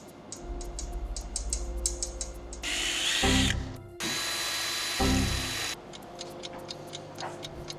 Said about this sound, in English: How am I gonna fit the drill in there?